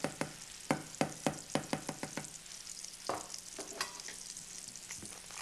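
Cheese soup thickening in a pan while a spoon stirs it, a quick series of close, sharp scraping knocks against the pan giving way to a softer sizzle and a few slower stirs.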